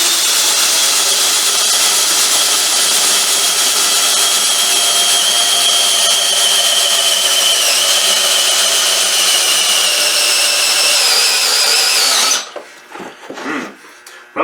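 A HYCHIKA cordless hammer drill bores steadily through oak pallet wood in a loud, continuous whine that runs unbroken for about twelve seconds, then cuts off abruptly, leaving a few short scattered clunks.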